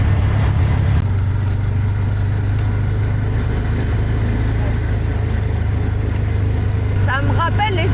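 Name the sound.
rented vehicle driving in traffic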